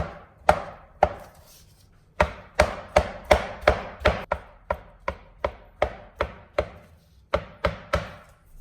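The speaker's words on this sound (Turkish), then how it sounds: "2 tane avokadoyu soydum ve bunları ufak parçalara ayırıyorum." Sharp knife chops through peeled avocado on a cutting board, a quick irregular series of crisp taps with short pauses between bursts, close and clear.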